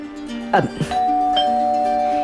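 A doorbell in a house sounds a clear two-tone chime in an Ilocano drama scene, its sustained ringing tones lingering after brief voices and a soft knock near the start.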